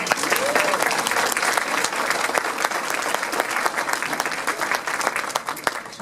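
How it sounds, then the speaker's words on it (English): An audience at a garden club gathering applauds the caterer and staff for the food and service, a full and sustained burst of many hands clapping that runs steadily for six seconds without talk. "we should also give a round of applause to Mr. Tony Colts and the staff for the excellent food and service"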